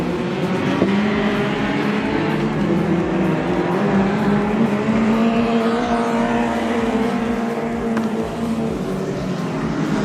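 Race cars lapping Gympie Speedway, with a dense, loud, steady engine roar from the pack. Several motors drone and rise in pitch together the whole time, heard from close to the dirt track with no break.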